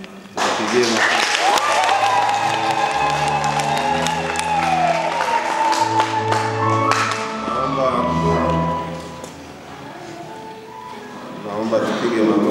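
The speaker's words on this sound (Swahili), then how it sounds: "Tupigie makofi." At a church wedding, the congregation breaks into clapping and cheers while music plays and voices carry over the top, the applause holding steady before easing and then rising again near the end.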